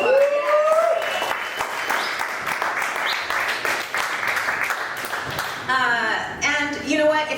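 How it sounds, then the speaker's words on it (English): A comedy show audience claps and cheers in a steady burst of applause, with voices calling out over it and a speaker talking near the end. "Let's give you guys a round of applause"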